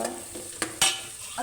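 A spoon stirs turmeric into onions sautéed in oil for chicken curry, giving two quick scraping strokes over a low, steady sizzle, close and moderately quiet.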